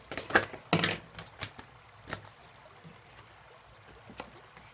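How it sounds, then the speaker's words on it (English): A few quick riffling bursts of tarot cards being shuffled near the start, then scattered soft shuffling and handling in a quiet room. "I can't shuffle and talk at the same time."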